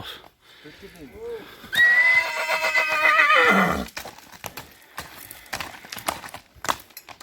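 A horse lets out one long, loud whinny lasting about two seconds, near and dominant, with softer snorts and scattered hoof clops before and after it.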